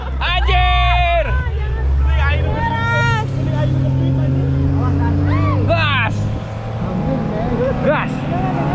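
Vehicle drifting across sand dunes at Gumuk Pasir Parangkusumo, a loud steady engine roar that rises and falls throughout, with excited voices shouting and cheering over it.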